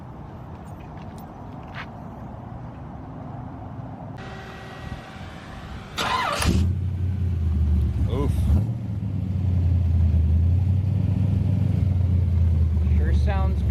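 A 1932 Ford Roadster fresh from a speed shop starts up and settles into a loud, steady low engine rumble, with a brief exclamation and some talk nearby.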